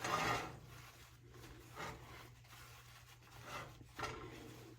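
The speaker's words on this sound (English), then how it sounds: "what I'm going to do now is I'm just going to kind of wipe the pan out just a little bit" A cooking pan being wiped out with a cloth or paper towel to clear excess residue: soft rubbing and scraping strokes in several bursts, close and fairly quiet, over a low steady background hum, with no talking.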